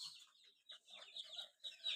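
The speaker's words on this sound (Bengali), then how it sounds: "আর এই সাইডে আমাদের সেই দেশি মুরগির বাচ্চা আছে 10 পিস" Twenty-five-day-old desi chicken chicks in a farm pen give soft, high-pitched peeps and little clucks in scattered short bursts, close but faint, with no talking.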